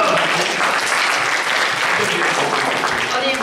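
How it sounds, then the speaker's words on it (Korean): Loud, sustained applause fills a church gathering at an Auckland Korean congregation, with voices talking and cheering underneath the clapping. "박수 한번 좀 해줄까요?"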